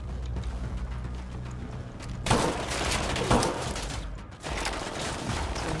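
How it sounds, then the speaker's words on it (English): Shotgun fire in the tactical shooter Ghost Recon, a crossover PvE mission with Rainbow Six Siege: loud, dense bursts of blasts at close range from about the two-second mark, with a brief drop before firing resumes. "let's switch to shotguns and fire at will"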